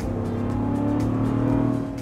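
A 2023 Land Rover Defender 110 V8 engine hums with a steady deep, throbbing idle or light cruise, close and continuous for a couple of seconds with no voices.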